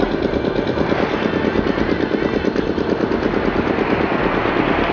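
A spinning butterfly-style Sivakasi firework buzzes and crackles nonstop, a loud, dense, rattling whir that holds steady the whole time.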